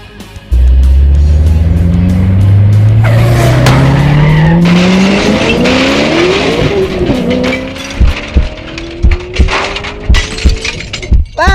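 Animated remote control cars race with a loud rising engine whine and a long tire skid, followed by clattering impacts and short bursts near the end.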